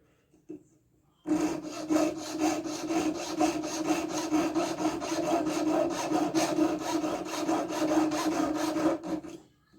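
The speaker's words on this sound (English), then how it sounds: "You can cut them like this on the push." A hand saw push-cutting a wooden piece braced in a corner, a steady run of rapid rasping strokes that starts abruptly after a brief tap and continues loud and close for about eight seconds.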